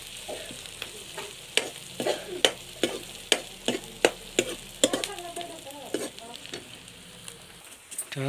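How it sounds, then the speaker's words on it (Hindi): Onions fry in a pan under a soft steady sizzle while a spoon strikes and scrapes the pan in sharp, regular stirring taps, close up. "देखिए हम लोगों का प्याज भून रहा है"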